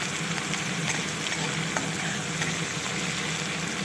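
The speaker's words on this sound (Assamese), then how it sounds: "ইয়াতে তেলতে অকণমান সময়ৰ কাৰণে ভাজি লৈছোঁ" Crushed onion, ginger and garlic fry in hot oil for an Assamese dry-fish dish, giving a steady, even sizzle that stays close and continuous throughout.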